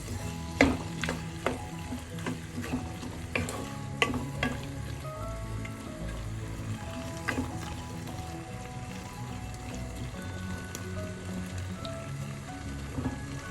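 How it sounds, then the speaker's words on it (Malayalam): Garlic chicken frying as a cornflour mixture is stirred in, a continuous sizzling crackle with scattered sharp spatters and occasional utensil clinks against the pan. "കലക്കി വെച്ചിരിക്കുന്ന കോൺഫ്ലവർ ചേർക്കാം. അത് കിടക്കുന്ന മിക്സ് ചെയ്ത്"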